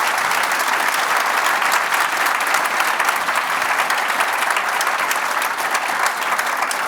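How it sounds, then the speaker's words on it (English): Steady, dense applause from a large audience at a panel discussion on football culture, sustained and even throughout without pause. "Round of applause, please, for our panel."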